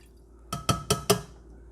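Distilled white vinegar is poured into a Cosori electric kettle, making a few quick splashing, clinking hits close by in an otherwise quiet room.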